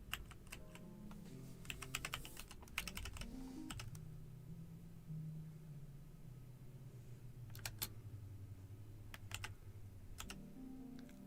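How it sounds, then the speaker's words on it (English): Rapid, dense bursts of computer keyboard presses, mashed repeatedly during a game playtest, clattering in clusters over a steady low hum with short pauses between flurries. "we're just going to keyboard spam here and see if anything happens"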